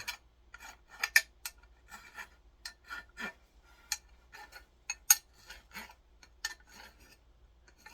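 A four-in-hand rasp files and chamfers an axe, making a series of dry, scratchy strokes in an irregular rhythm, close and fairly quiet, with no speech.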